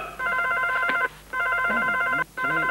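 A blue telephone rings three times in quick electronic bursts with short gaps between them, loud and close, as a comedy sound effect in a sketch.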